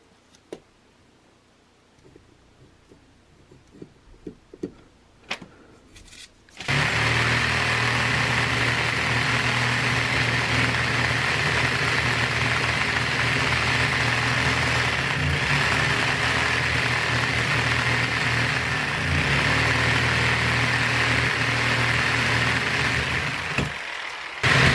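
A jigsaw saws through quarter-inch steel plate for shield mounting plates, a loud, steady buzzing grind that starts abruptly after a few quiet seconds of small handling sounds and runs continuously to the end without talk.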